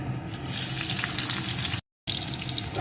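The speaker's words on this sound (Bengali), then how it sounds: "এখন এগুলোকে একটু ভেজে নেব" Chopped onion and a slit green chilli fry in hot oil with five-spice whole seeds, a steady bright sizzle broken by a brief dropout near the end, close and moderately loud.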